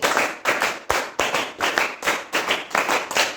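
A group of sixth-grade pupils clap their hands in a classroom, a sharp run of bright, close claps in clustered bursts across the few seconds, with no talking.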